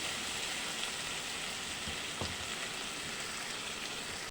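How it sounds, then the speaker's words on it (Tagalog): Shrimp paste being stirred as it fries in a wok, a steady soft sizzle with a brief scrape of the spatula, close and unaccompanied by talk. "Haluin lang po natin ng konti"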